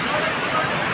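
Roaring broadband rush of a monsoon waterfall at Tamhini Ghat, loud and continuous with no breaks across the short stretch.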